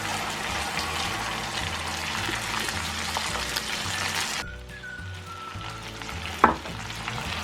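Steady loud sizzling as mutton karahi fries with ginger and garlic, then the sizzle drops as two cups of water are poured in, with a brief clatter near the end.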